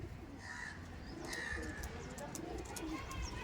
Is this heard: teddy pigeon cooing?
yes